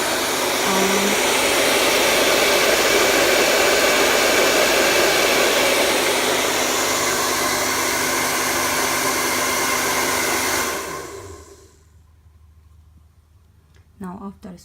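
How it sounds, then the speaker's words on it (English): A hair dryer blows with a loud, steady roar for about ten seconds, then switches off and winds down, leaving near silence and a faint click. "Now the hair dryer is switched on"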